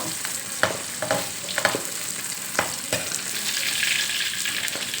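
Thai-style mackerel frying in a pan, a steady close sizzle of hot oil with a few sharp pops and spatters scattered throughout, no voices.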